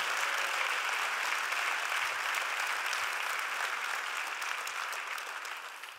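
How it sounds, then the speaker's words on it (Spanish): A church congregation claps steadily and loudly during a sermon, the applause slowly fading toward the end. "denle un aplauso fuerte"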